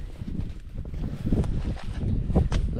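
Gusty wind buffets the microphone in low, rumbling blasts, steady and uneven throughout with no voices.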